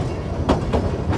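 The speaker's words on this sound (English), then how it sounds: "So Weston, you having fun on the train" A passenger train rolls along the rails through the Chama Valley, a steady close rumble with a few rhythmic clickety-clack wheel beats over the joints.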